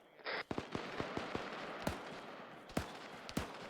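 Distant gunfire from an eastern hilltop during a military video game operation: scattered sharp cracks and thumps, roughly a dozen irregular shots, some louder, over a steady hiss of background noise.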